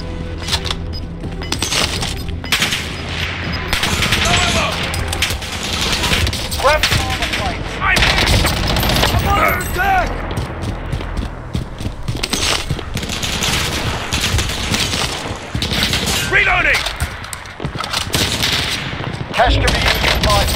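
Dense, continuous gunfire from Call of Duty Warzone, rapid automatic bursts and cracks layered with booms and battle noise, loud and close, with shouted voices now and then beneath the shooting.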